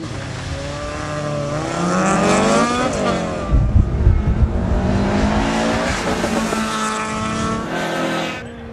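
Race car launching off the line in a street drag race with launch control in first gear, engine revving up loud and climbing through the gears, with a sharp roar mid-way and fading toward the end.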